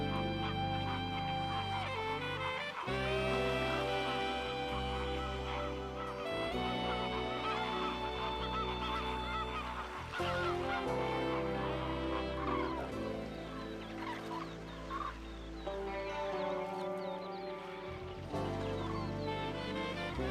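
A flock of migrating cranes calls continuously with loud, overlapping honking and trumpeting cries over twenty seconds. The calls sound close and dense, with a steady background beneath them.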